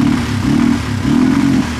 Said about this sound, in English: Sounds weird because it's got the choke on right now.